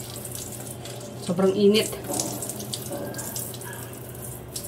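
Water runs steadily from a weak tap during a dog bath at home, a continuous splashing stream with a brief louder gush, while someone speaks briefly over it.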